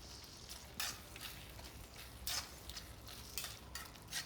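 Prawn roast cooking in a pan, a soft continuous sizzle with periodic scraping stirs of a spoon against the pan, faint and close, without voices.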